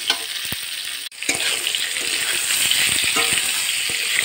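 Pointed gourd (potol) pieces salted and frying in oil in a pan give a steady, close sizzle that runs throughout, with a brief dip near the start and occasional stirring clinks, no talk.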